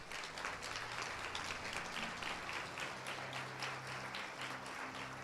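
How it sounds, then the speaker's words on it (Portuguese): Congregation in a church service applauding together, a steady wash of many hands clapping at moderate volume for several seconds with no talk over it. "Você pode aplaudir o Senhor por isso?"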